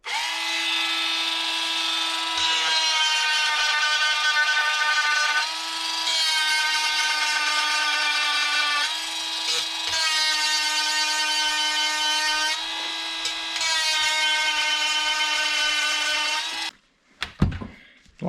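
An electric chainsaw sharpener grinds chain teeth in a series of steady high-pitched whining passes separated by brief pauses, ending with a few clunks, with no talking.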